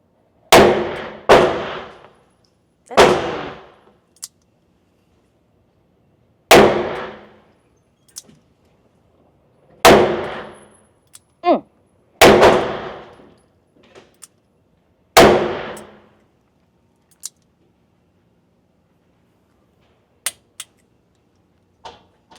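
A Smith & Wesson 637 revolver in .38 Special fires about eight sharp, loud shots at an irregular pace, each ringing off quickly, with a few faint clicks and ticks between them.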